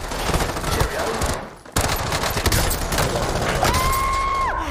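Rapid automatic gunfire in the video game Call of Duty: Warzone, loud and dense bursts with a brief gap midway, followed by a rising and falling synthetic whine near the end.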